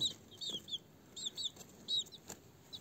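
Young chickens cheep and cluck in short, high bursts, several calls close together over a quiet background.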